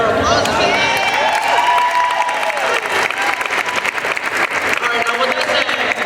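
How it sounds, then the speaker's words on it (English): A crowd at a mall sports talk event applauds and cheers loudly, dense clapping at close range with a host's voice and some whooping mixed in at the start. "y'all gotta give better applause than that"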